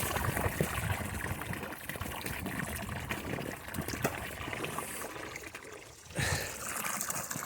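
Cold well water trickles and gushes steadily into a pig waterer outdoors in winter, a close, continuous splashing stream with a brief surge near the end and no speech.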